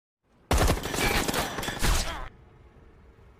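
A dense burst of rapid gunfire erupts in a war film, loud and sustained for nearly two seconds before cutting off abruptly into a low background hum.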